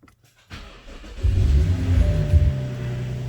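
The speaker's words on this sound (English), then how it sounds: "Oil is in, put the plug back, start the car." A BMW 435i F3x petrol engine cold-starts in a garage after an oil change. There is a brief quiet, then the starter cranks and the engine catches and surges into a loud, rumbling, high-revving idle, heard close.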